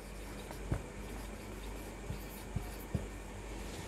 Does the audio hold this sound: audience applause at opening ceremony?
no